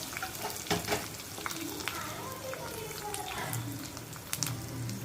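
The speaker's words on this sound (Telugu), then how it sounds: "కరివేపాకు వేగిన తర్వాత ఎండుమిరపకాయలు అండి" Curry leaves and dried red chillies frying in hot oil for a tempering, a soft continuous sizzle and crackle with occasional louder pops and a few stirring clinks, heard fairly close.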